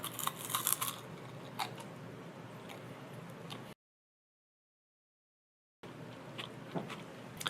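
Crunchy bites into a crisp sugar cone filled with chocolate, a few sharp cracks near the start followed by quieter close-up chewing, with a silent gap midway.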